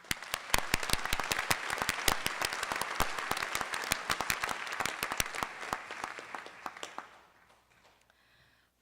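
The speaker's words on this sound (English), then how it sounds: "Let's have a round of applause for Professor Fennelly" An audience at a University of Mississippi doctoral hooding ceremony claps in a loud, sustained burst with sharp individual claps standing out, then fades to quiet near the end.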